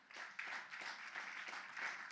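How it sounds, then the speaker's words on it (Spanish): Congregation in a church breaking into sustained applause, a dense wash of many hands clapping at steady level for a couple of seconds, fairly distant and without talk over it. "Un aplauso al Señor."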